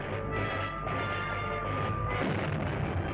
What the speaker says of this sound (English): Again, these missiles are hardly doing anything.